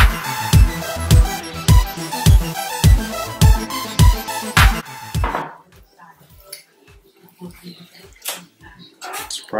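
A knife cuts through juicy smoked choice brisket on a cutting board, with about ten loud, evenly spaced thuds against the board, then a run of fainter, lighter taps.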